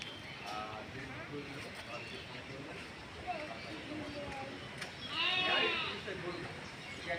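Sheep bleating at an outdoor sheep distribution event, faint and partly masked by someone speaking through the whole stretch, with one clearer bleat near the end.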